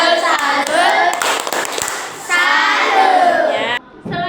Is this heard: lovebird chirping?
no